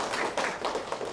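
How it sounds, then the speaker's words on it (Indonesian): Brief scattered clapping from a small seminar audience, a handful of soft, close claps in an uneven rhythm, fairly quiet and over almost at once. "Tepuk tangan sekali lagi"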